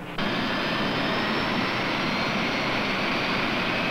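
Navy jet aircraft rolling out on a carrier deck in the China Sea, a loud, steady roaring jet engine drone that starts abruptly and holds close and constant.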